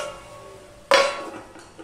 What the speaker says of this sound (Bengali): দিয়ে আমি আবারও ঢাকা দিয়ে দিলাম